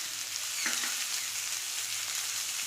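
Chopped tomato frying in oil with turmeric, salt and green chilli for a prawn and kohlrabi-stem chorchori, a dense steady hiss close by with one faint scrape of a spoon, no talking.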